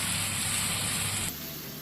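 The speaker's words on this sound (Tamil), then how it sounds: "புளித்தண்ணி சேர்த்து நல்லா கலந்துருவோம்" Tamarind water pours in a steady gush into a Kerala-style sardine fish curry, a continuous close splashing that cuts off abruptly near the end.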